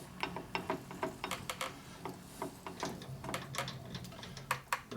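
Lathe cutting a part for a Linkert M-88 carburetor from a 1942 Harley-Davidson WLC/WLA 45ci, heard as close, irregular ticking and clicking mechanical taps with a steady low motor hum underneath.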